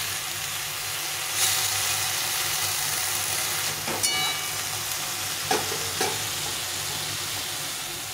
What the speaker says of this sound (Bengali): আমি এখানে এই সেদ্ধ করা শাকটা দিয়ে দেব। শাকটাকে একটু নেড়ে চেড়ে নেব।